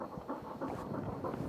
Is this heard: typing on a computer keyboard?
no